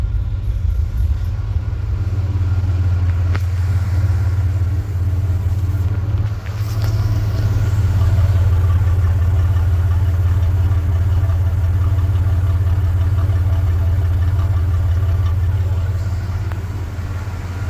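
A 1993 Chevrolet Blazer's freshly installed engine idles in a garage, a steady low rumble holding an even pitch throughout with a brief dip midway, close and loud with no talking over it.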